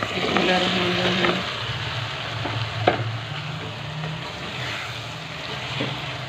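Potatoes and fenugreek leaves fry in a pan with a steady, close sizzle, broken by a few sharp scrapes and clinks of a spoon against the metal.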